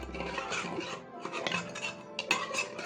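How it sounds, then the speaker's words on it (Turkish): A spoon stirs sugar into Turkish coffee, with a steady run of light metallic clinks and scrapes against the cup, close and fairly quiet. "Şimdi karıştıracağım."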